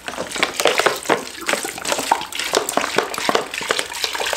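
Water poured from a bottle into a container of soaking horse feed pulp in a stable, a steady splashing, gurgling stream that runs close and fairly loud throughout without a break.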